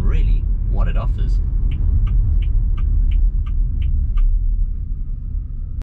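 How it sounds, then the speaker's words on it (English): A 2021 Haval Jolion 1.5T Super Luxury rolls with a steady, loud low cabin rumble as it pulls to the roadside. A voice talks over it, and a regular run of indicator ticks follows. "let me pull to the side of the road now"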